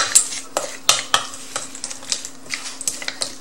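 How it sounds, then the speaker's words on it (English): Puffy fish salad being mixed into a mango base, with wet stirring scrapes and a string of light clacks of a utensil against the bowl, close and irregular, with no talk. "I'm gonna mix this together."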